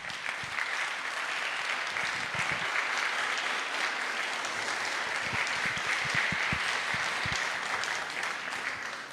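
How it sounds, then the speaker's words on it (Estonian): Sustained, dense applause from a large audience at the opening of a culture and education center, steady and fairly loud for the whole stretch, with a few nearer individual claps standing out. "Palun suur aplaus!"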